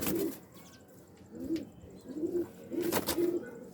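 Pigeons cooing in low, throaty bursts, several repeated calls spaced a second or so apart, fairly close, with faint chirps and rustles between.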